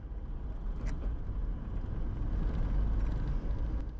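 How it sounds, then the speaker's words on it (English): A car with a badly worn clutch drives along Mississippi 198 in a single gear, giving a steady low road and engine rumble that swells slightly toward the end, with no talking. "Something is so far off on gear shifts right now. I just destroyed my clutch."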